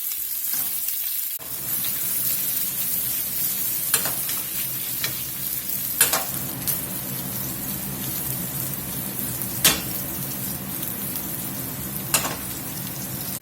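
Sausage sautés in a skillet, browning with a steady, close sizzle and crackle, broken by a few sharp pops and occasional stirring scrapes throughout, with no voices.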